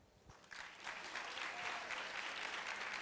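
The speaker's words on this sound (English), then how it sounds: "y'all give those brothers a round of applause again" An audience at a panel discussion on Black men and mental health breaks into sustained applause, a dense wash of clapping that swells after a short lead-in and holds steady.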